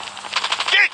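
Rapid gunfire in Call of Duty Mobile, a quick rattling burst of shots lasting about a second, close and fairly loud with a brief tonal whine at the end.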